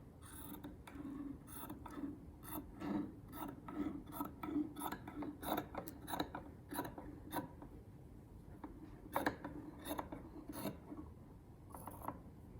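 Scissors trim a seam allowance on garment fabric for a flat felled seam, a quiet close series of irregular crisp snips and rasping cuts with no voices.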